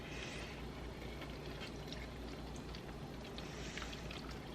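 Milk being poured into a cooking pot, a soft steady liquid splashing and trickling sound, close and fairly quiet throughout, with no talking.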